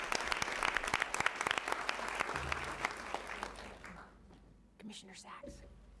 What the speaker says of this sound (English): Let's give another round of applause to these amazing entrepreneurs